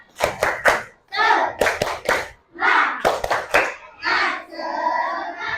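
A primary school class performs a rhythmic spirit clap, crisp bursts of unison hand claps in a patterned beat alternating with the children's chanted voices, loud and close in the classroom.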